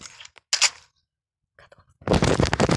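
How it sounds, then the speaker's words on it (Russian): Sniper rifle fire in a shooting video game, a few short sharp cracks separated by gaps of silence, followed by a stretch of dense, loud game noise at the end. "Он стоит далеко, со снайперки стреляет."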